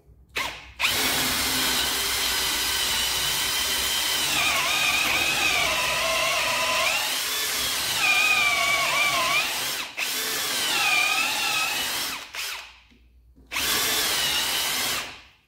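An Ozito 18V brushless hammer drill bores a 12.5mm hole with a loud, steady whine lasting about twelve seconds, dipping briefly near the end, then stops before a short final burst.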